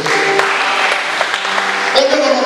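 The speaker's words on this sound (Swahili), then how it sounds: "Ongeza makofi kwa Bwana Yesu." Congregation clapping during a church worship service, a steady dense patter of applause filling the space throughout, with a voice speaking over it.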